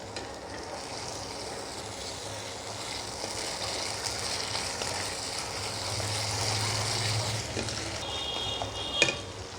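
Water mixed with white paste is poured into a pan of Katla fish rezala, hissing and sizzling steadily over a continuous frying crackle, moderately loud and close, with a brief sharp clink near the end.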